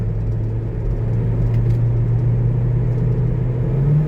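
A Ford Transit van, in for a misfire and a suspected transmission fault, pulling away in drive: a steady low engine rumble with a droning hum that holds level, then rises slightly at the very end.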